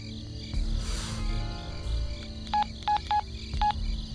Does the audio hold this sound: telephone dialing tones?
yes